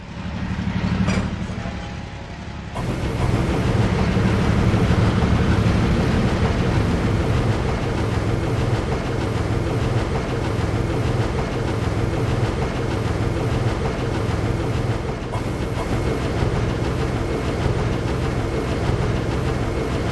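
Two diesel locomotives approach along a railway, their engines giving a steady, loud low rumble and drone that builds quickly and holds for the rest of the stretch, with no talking.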